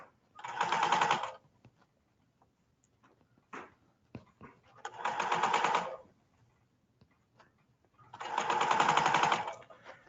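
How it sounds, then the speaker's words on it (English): Sewing machine on a flatbed stitching two layers of fabric, in three loud, steady bursts of rapid whirring separated by quiet pauses with faint handling clicks. "after this one pass of sewing, we're already going to have 2 layers on"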